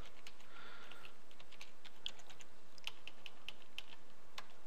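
Keys on a computer keyboard tap in a quick, uneven run of soft clicks, close and fairly quiet, as a name is entered into a parent account form.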